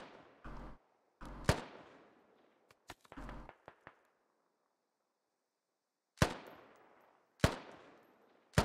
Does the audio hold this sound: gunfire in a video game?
yes